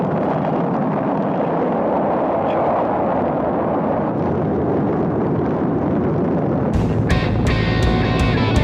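Archive rocket launch at ignition: a sustained, broad roaring rumble fills the whole stretch, with a sharper crackling, harder-edged burst near the end, loud and continuous with no talk.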